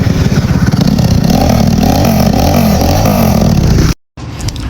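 A motorcycle with a slipping drive belt revs loudly and roughly close by, its engine rattling and scraping for about four seconds before a sudden cut and a brief restart.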